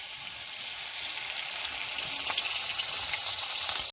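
Ginger, chili paste and a chana dal filling fry steadily in oil, a dense hiss that swells slightly louder toward the end, with faint scattered pops and no voices.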